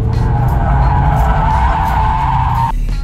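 A Mazda MX-5 Miata skids as its rear slides out, a loud, close, sustained tire squeal over engine noise that stops abruptly just before the end.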